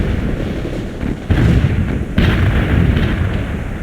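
Artillery fire in a military video game, heavy booming blasts rolling over a dense rumble of continuous battle noise, with two sharper, louder impacts standing out partway through and no voices.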